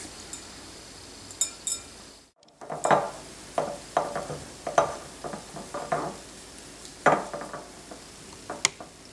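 Alfajores de maicena dough being mixed by hand with melted butter in a bowl, a run of soft, close squelching and tapping bursts in an irregular rhythm, with no talk.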